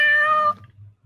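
A cat meows once on a laptop keyboard, a clear, close, tonal meow about half a second long, followed by faint low rustling.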